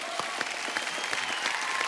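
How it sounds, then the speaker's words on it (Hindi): Brief, lively burst of studio audience applause on an Indian television comedy show, many hands clapping densely and evenly throughout. "एक बार जोरदार तालियां"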